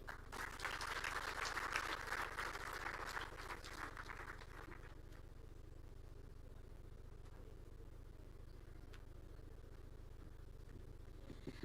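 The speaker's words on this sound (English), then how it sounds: "Another round of applause for CS." Crowd applause at an investors forum in Kilifi County, Kenya, fills the opening seconds, loud and dense, then fades into a low rumbling background with scattered claps.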